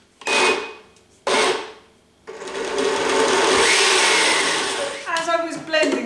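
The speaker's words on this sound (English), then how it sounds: "So what I'm going to do is just simply blend all of these ingredients together." A blender purees roasted beetroot and butternut squash soup with cumin. Two short loud bursts are followed by a long steady whirring run. The motor then drops into uneven rattling pulses at the end.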